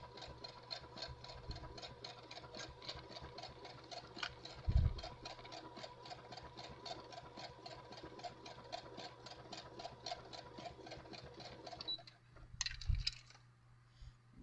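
A sewing machine stitching a hexagon quilt runs at a fast, even rhythm of close mechanical ticks, with a couple of soft knocks before the stitching stops near the end.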